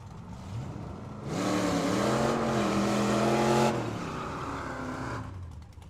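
Drag racing cars roar down the strip at Firebird Motorsports Park, a loud sustained engine wail swelling to a peak in the middle and then trailing off as they pull away.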